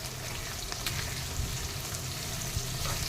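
Curry leaves sizzling in hot oil for drumstick patoli curry, a soft, continuous frying crackle at moderate distance, fairly quiet and without talk.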